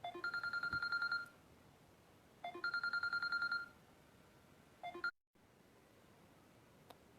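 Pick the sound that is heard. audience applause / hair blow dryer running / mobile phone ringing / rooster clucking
mobile phone ringing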